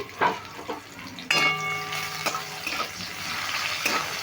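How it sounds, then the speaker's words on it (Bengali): Bitter gourd is stirred and fried in a wok, giving soft scrapes and clatter, with one short ringing squeal of metal partway through and a few more scrapes after. "উচ্ছেটা আমি একটু নেড়ে চেড়ে ভেজে নিচ্ছি"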